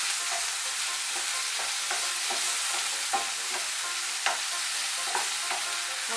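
Salt is stirred into bitter gourd frying in a pan, a soft continuous sizzle broken by repeated gentle scraping strokes of the spoon.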